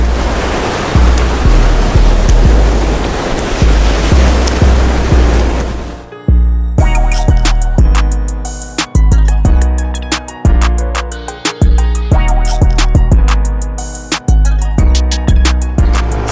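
Ocean surf breaks on a Florida beach with a steady, loud, close roar for about six seconds, then gives way to a series of sharp, ringing tonal hits.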